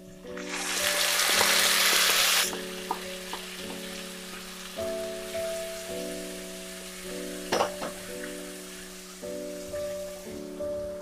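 Marinated chicken hits hot fried onions in a pan with a loud, bright sizzle for about two seconds, then settles into a softer crackle over a steady tonal hum.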